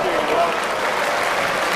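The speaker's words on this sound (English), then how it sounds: "No wonder the crowd applaud that." A crowd at the 2006 Waterloo bowls quarter-finals applauds a bowl in a brief, dense burst of clapping, heard close and full while a commentator talks over it.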